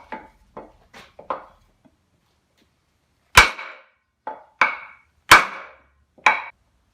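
Sharp, loud whacks of a hammer on a hard maple wood wedge, first several lighter taps, then a pause and a series of heavy separate strikes.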